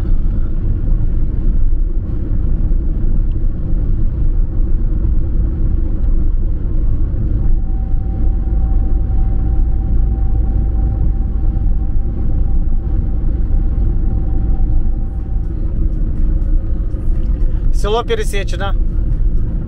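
Inside a Mercedes Vito van on a snowy road, a constant heavy low rumble of engine and tyres runs the whole time, with a voice talking briefly near the end.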